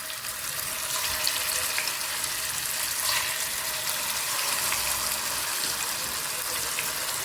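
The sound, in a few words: fish frying in hot oil in a pan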